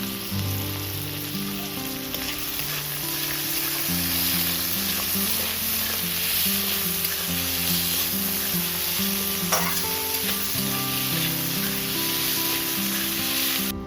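Chopped onion and tomato with a little salt fry in a pan, giving a loud, continuous crackling sizzle that holds steady with scattered faint stirring, and no voices over it.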